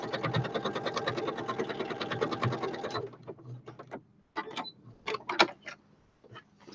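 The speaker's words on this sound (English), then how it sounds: "it does do embroidery, but it's a quilting machine" Quilting sewing machine stitching fabric, a fast rapid clatter of stitches for about three seconds, then stopping and giving way to a few short bursts of stitching and clicks.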